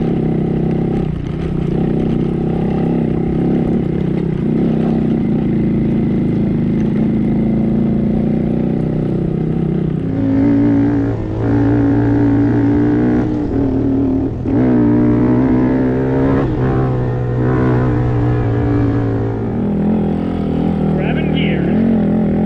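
Small Honda Monkey motorcycle engine running off-road on rocky terrain, steady drone with audible gear changes and pitch shifts, up close, with people talking over it.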